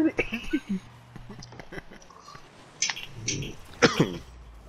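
A few short, harsh coughs break out amid ongoing conversation and a noisy background, with the loudest bursts coming near the end.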